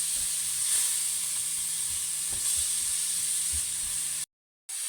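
Onion and garlic sizzle steadily in a pan while being stirred, a constant close hiss with faint scrapes and clicks, cutting out abruptly near the end.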